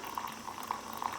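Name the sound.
boiled hot water poured into AeroPress coffee maker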